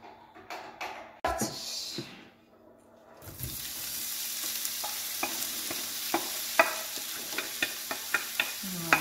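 Sliced onions and leeks hitting hot oil in a frying pan for a quiche, a sudden sizzle that swells into a steady close frying hiss, punctuated by light scraping stirs and clicks after some earlier kitchen clatter.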